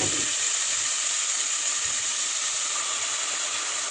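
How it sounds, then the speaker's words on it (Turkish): Chopped onions sizzling in 3-4 tablespoons of hot olive oil in a pan on the stove, a steady, fairly loud frying hiss that holds evenly throughout with no talking. "Soğanlarımızı ekliyoruz."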